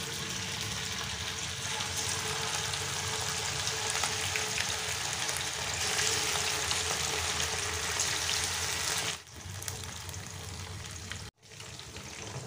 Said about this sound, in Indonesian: Nah, untuk minyaknya sudah panas, lalu kita masukkan ayamnya ya,